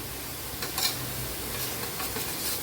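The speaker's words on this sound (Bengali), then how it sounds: "এখন আমি 2 চামচ মিষ্টি দই, এই চামচের 2 চামচ মিষ্টির দই আমি ফেটিয়ে দিয়ে দিচ্ছি" Whisked sweet yogurt sizzles in hot oil for a fish kalia. A steady frying hiss runs throughout, with soft stirring scrapes and a brief louder crackle near the start, and no one speaks.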